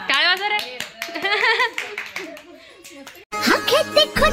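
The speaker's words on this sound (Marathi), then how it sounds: "टाळ्या वाजवा रे." Guests at a Haldi Kunku gathering break into brisk hand clapping, rapid close claps mixed with voices and lively chatter that drop briefly before another loud burst of applause.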